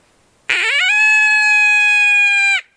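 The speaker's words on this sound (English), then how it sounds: "You can take a call like the critter call, and you can do howls" A single long howl blown on an open-reed critter call for coyotes rises sharply, then holds a clear, loud, steady tone for about two seconds before dropping off, heard alone against silence.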